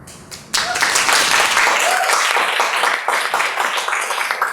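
Audience clapping at a motivational seminar bursts in suddenly after a brief near-silence, then carries on loud, dense and sustained from a close room crowd.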